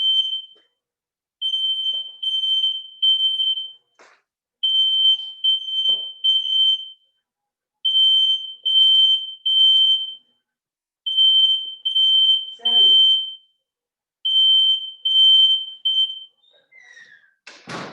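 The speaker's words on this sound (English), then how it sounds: "That was my fire alarm going off, or smoke alarm or whatever." A household smoke alarm shrills in repeated groups of piercing beeps with short gaps between them, loud and close, over about eighteen seconds, with a brief faint voice near the end.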